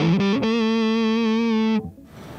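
An electric guitar played through a Southampton Pedals Indie Dream overdrive: a few quick picked notes, then one bright, buzzy sustained distorted note that rings for over a second before cutting off, loud and alone.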